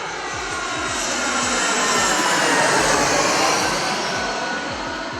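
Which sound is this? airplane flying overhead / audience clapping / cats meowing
airplane flying overhead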